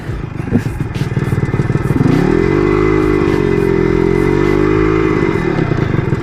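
A Yamaha RXZ motorcycle is ridden nearby, its two-stroke engine buzzing loudly and rising into a sustained rev with a steady wavering pitch, with some clatter beneath.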